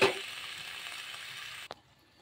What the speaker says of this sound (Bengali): টমেটোগুলো সিদ্ধ হোক।